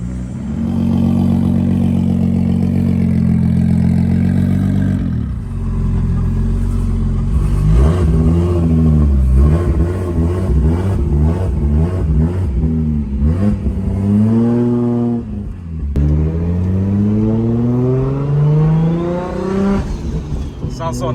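A turbocharged Nissan Skyline R34 GT-T engine revs and accelerates through rising gear sweeps while cruising, loud and close from inside the car, with voices talking over parts of it.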